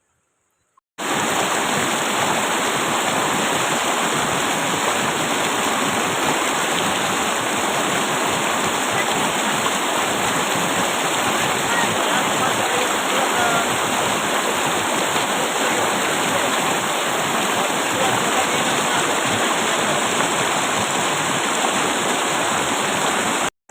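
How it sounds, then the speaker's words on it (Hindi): Water of a mountain spring stream in a Pakistani valley, rushing loudly and continuously close by for over twenty seconds, a full unbroken roar with no talk. "ये माशाल्लाह चश्मे का खूबसूरत पानी है"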